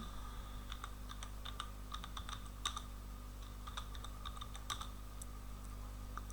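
Someone types on a computer keyboard in quiet bursts of crisp key clicks with short pauses between them, close and fairly soft, over a low steady background hum.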